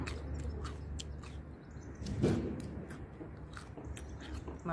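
Raw bitter gourd being bitten and chewed up close, with a crisp crunch near the middle, while construction knocking taps faintly in the background.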